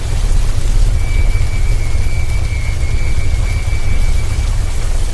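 Heavy rain pours steadily with a deep thunder rumble underneath, a loud unbroken wash of sound throughout with no voices.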